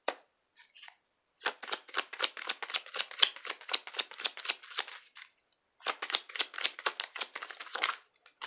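A tarot card deck shuffled by hand: two bursts of rapid, crisp riffling flicks, close and clear, separated by a short pause, with no speech.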